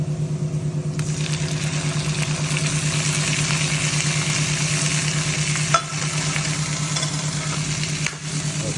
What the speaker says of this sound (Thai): แล้วก็ผัดต่อ ให้มันแห้งนิดนึง